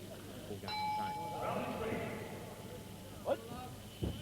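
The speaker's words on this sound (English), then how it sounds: "The bell for round three." A boxing ring bell rings once with a sustained metallic tone to signal round three, heard under a commentator's voice, with crowd noise and a few sharp knocks afterward.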